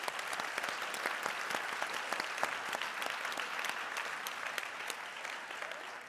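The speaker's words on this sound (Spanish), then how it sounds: "Hacemos un aplauso, por favor" Steady applause from a conference audience fills the room, dense overlapping claps at an even level with no voices standing out.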